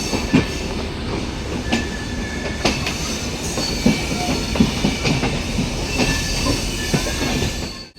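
Kumbh Express, train number 13035 running from Howrah Junction to Dehradun, rumbles steadily past at close range with rhythmic clickety-clack of wheels over rail joints and brief squeals, loud throughout before cutting off sharply at the end.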